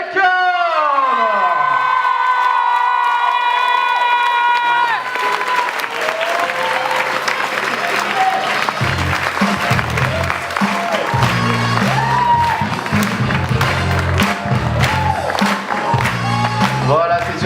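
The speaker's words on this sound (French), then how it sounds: "réserver un tonnerre d'applaudissements à notre professeur international préféré de cette année" A crowd at an evening bellydance show bursts into loud, sustained applause and cheering for their favourite international teacher, Matt Jacob, after opening tonal music, with dense clapping continuing to the end.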